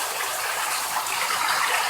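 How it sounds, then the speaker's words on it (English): Reverse-osmosis water pouring from a pipe into a tank in an aquaponics greenhouse, a steady close splashing gush with no pauses. "This is RO water coming straight from my basement."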